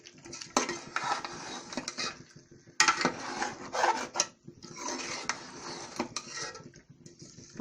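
Spicy achari aloo with green chillies and fresh coriander stirred in a pan, a spoon scraping and clinking against the metal in uneven bursts with short pauses, close and moderately loud, no talking.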